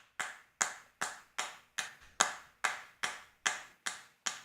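Cheek clap samples in a hip-hop mix strike eleven times in a tight, even rhythm, each one a sharp, crisp snap that decays quickly, playing alone with nothing else underneath.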